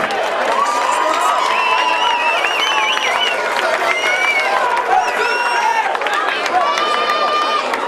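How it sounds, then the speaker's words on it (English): A live crowd at a mixed martial arts fight night roars with sustained cheering, whoops and shouts that stay loud and dense from start to finish, with bursts of whistling on top and no break in the noise. "Ladies and gentlemen, round of applause for our finals this evening"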